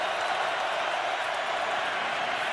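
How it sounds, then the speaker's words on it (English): A crowd at a Steelers–Ravens football game stands and cheers, a continuous broad roar from the stands, steady and somewhat distant, with no distinct voices standing out. "Crowd standing and stopping and towels waving, white towels"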